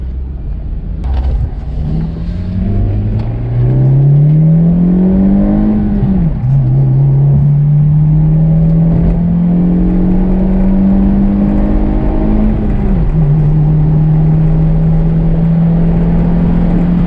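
A Honda CR-Z accelerating hard from a standstill, its engine rising steadily in pitch through the gears with two clear drops at the shifts, loud and close throughout with no talking.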